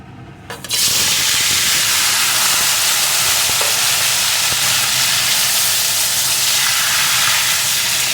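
Small koi fish tipped into plenty of hot oil, setting off a sudden loud, dense hissing sizzle that stays steady and close for several seconds without talk.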